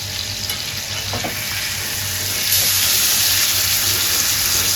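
Fish fries in a pan, giving a loud, close, continuous sizzle and bubbling that grows noticeably louder partway through as the frying intensifies.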